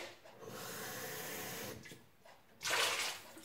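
Running water splashes steadily as a utensil is rinsed under a tap after scraping off yogurt, then briefly softens before a louder, brighter gush of flow near the end.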